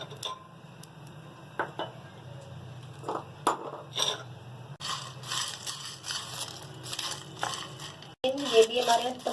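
Whole garam masala spices fry in hot oil for a beef resha shami kabab, giving a close, dense crackling and popping that swells into steady sizzle after a few scattered snaps, with a voice occasionally over it.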